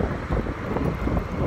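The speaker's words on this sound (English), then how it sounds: "The wind is going." Wind blows hard against the microphone outdoors near a bridge, a loud, continuous rumbling roar that fills the whole moment with no voice heard.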